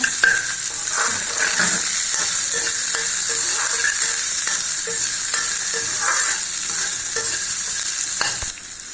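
Onion frying with chilli in a pan for a banana stem stir-fry, a loud close hiss of oil running steadily under repeated clinking and scraping stirs, fading slightly just before the end.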